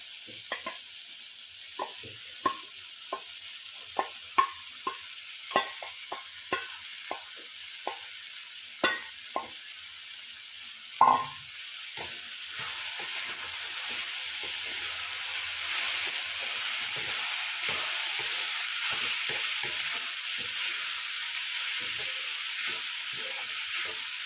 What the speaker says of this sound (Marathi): आता आपण हा शिजलेला किनोवा टाकूया.